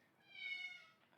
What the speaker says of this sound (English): I apologize if you hear my cat in the background.